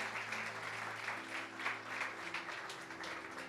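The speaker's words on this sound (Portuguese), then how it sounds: "Aplauda o Senhor." A church congregation applauds in a steady, dense wash of clapping that sustains throughout, fairly close and moderately loud, with faint voices underneath.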